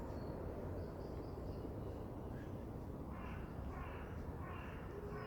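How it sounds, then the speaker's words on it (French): Crows caw outdoors in a short series of harsh calls, moderately distant, over a steady wash of wind and background noise. "on entend les oiseaux"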